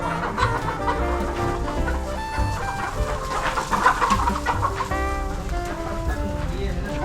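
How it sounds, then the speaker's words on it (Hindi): A crowd of desi chickens and roosters at a Ranchi poultry seller clucks continuously and fairly loudly up close, with overlapping calls and some background voices. "हाँ सब मुर्गी है।"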